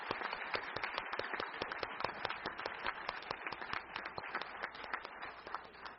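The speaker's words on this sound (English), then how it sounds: "Let's give all of them one more round of applause." An audience at a student essay contest awards ceremony applauds the winners, giving a dense, steady patter of many clapping hands that stays fairly quiet and even for the full six seconds.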